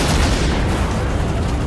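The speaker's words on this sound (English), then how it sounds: "start blowing up tanks and shooting." A dense, continuous roar of movie gunfire and explosions as tanks are blown up, loud and rumbling throughout with no pauses.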